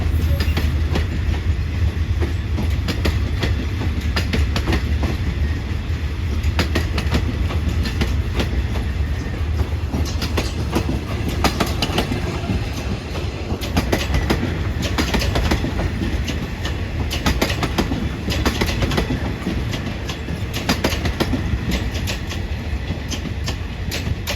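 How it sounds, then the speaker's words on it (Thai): A suburban passenger train of all third-class cars rolls past close by at Salaya railway station in Thailand, wheels clattering in a steady clickety-clack rhythm over a deep rumble for the whole stretch. "ขบวนนี้ก็จะเป็นขบวนรถชานเมืองเนาะนะครับ ก็จะพ่วงรถชั้น3ล้วนนะครับ"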